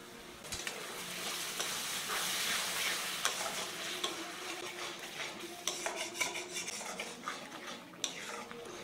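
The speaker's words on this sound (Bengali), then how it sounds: "এবারে সব কিছু খুব ভালো করে নাড়াচাড়া করে ভেজে নিচ্ছি" Spices for butter chicken stirred and fried in a pan, a steady sizzle with repeated scraping and clinking strokes of a spoon against the pan, close and continuous.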